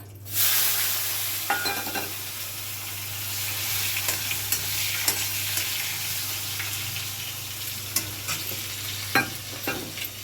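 Tomatoes hitting hot oil seasoned with asafoetida, a loud steady sizzle with periodic spoon clinks and scrapes against the pan, no voices.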